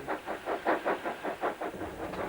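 A steam locomotive working in full gear chuffs in a strong, even rhythm of about ten exhaust beats, loud and close with a hissy edge.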